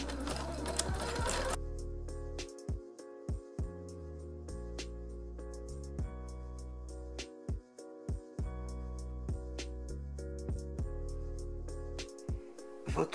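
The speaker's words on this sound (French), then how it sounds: "Maintenant, on va faire un point bourdon tout autour." A sewing machine runs a satin stitch around an appliqué fabric heart, its motor whirring in short runs broken by stops and clicks, close and alone.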